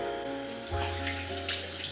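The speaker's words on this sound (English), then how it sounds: "And I rinse it with warm water." Warm tap water runs and splashes as a face is rinsed at a sink, a steady close wash with brief hand splashes and no talking.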